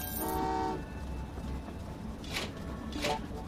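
A train horn toots in the railway puzzle game Train Valley 2, one held tone at the start and then two short bursts later, over a steady low rumble of game ambience.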